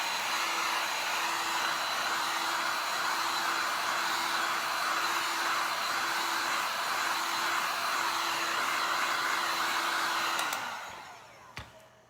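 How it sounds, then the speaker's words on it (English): A heat gun blows a steady, loud whoosh of air with a faint whine underneath, then switches off and winds down near the end. "So if you're using a heat gun like I am"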